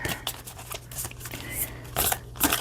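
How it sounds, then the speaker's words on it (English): A deck of cards is shuffled close by, with rapid papery riffling and flicking in short bursts that sound scrapy and fairly soft. "I'm gonna give it a good shuffle."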